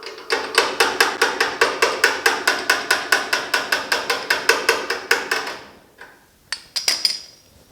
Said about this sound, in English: I'm just using the hammer to pull down a little bit while I tap on some of these high spots.